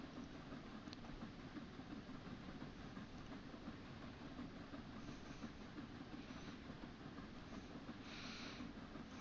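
The Flying Scotsman steam locomotive in Train Sim World 4 rolls along with steady rail rumble and faint clickety-clack, quiet and continuous with no talking.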